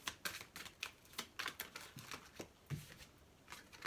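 Tarot cards are pulled from a deck in a quiet room, a quick run of soft papery snaps and flicks in uneven bursts, faint and close.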